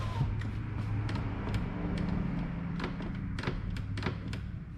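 A 2015 Chevrolet Cruze power window, just fitted with a replacement regulator, runs up and down by itself with a continuous motor whir, faint creaks and a few small clicks close by.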